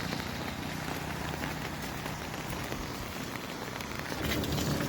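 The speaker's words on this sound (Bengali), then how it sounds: "3 দিন ধরে মুষলধারে বৃষ্টি চলতেছে, অবিরাম বৃষ্টি।" Heavy, continuous downpour during days of nonstop monsoon rain along a road with passing autorickshaws and motorcycles, a dense steady hiss of rain striking surfaces, loud and unbroken throughout with a slight swell near the end.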